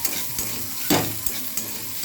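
Vegetables frying in a pan for chira polao are stirred with a spatula, giving soft scraping strokes over a low, steady sizzle, with one louder scrape in the middle.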